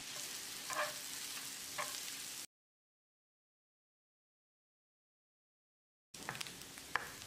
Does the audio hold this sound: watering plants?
no